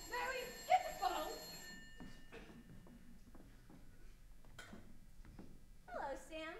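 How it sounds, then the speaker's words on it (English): A telephone rings as a sound effect during a high school stage production of It's a Wonderful Life, giving a brief faint ring early on amid quiet stage voices and room noise. "Mary, get the phone."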